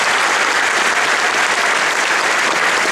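Steady, dense applause from a large audience at a religious lecture fills the whole stretch, loud and continuous with no speech over it.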